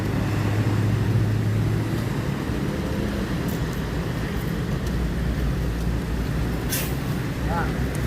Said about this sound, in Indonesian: Transport bis keempat masuk ke terminal Palembang pagi ini, yang pakai bodi Laksana SR3.